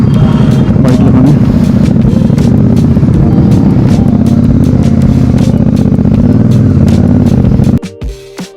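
A Royal Enfield Super Meteor 650 motorcycle rolls into a parking area, its engine a loud steady thrum throughout before cutting off near the end, leaving a few faint knocks.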